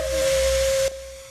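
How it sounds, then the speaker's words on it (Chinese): The whistle of a century-old Alishan forest railway steam locomotive sounds as one loud, steady tone over rushing steam hiss, then cuts off abruptly. "听到响声，车头唱白烟，蒸汽火车启动前进"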